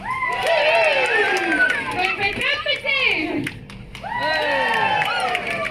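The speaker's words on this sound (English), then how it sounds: "Do you reckon you could give a nice big cheer for each one?" An aquarium show crowd of children and adults cheers and shouts loudly and continuously for a fur seal's jumps, with a presenter's voice over the top and a short dip in the noise before it swells again.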